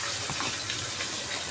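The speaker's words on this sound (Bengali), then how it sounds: "মশলার মধ্যে আমি একটু জল দিয়ে দিচ্ছি।" Water is poured into a spice mixture in a pan used for frying fish with black cumin, giving a brief hissing sizzle and splash with no talking.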